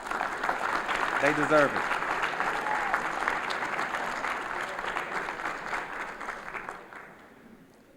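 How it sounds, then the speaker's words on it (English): An audience at a sports awards event applauds steadily for several seconds, a broad wash of clapping that slowly fades, with a brief spoken remark near the start. "So let's give them a round of applause."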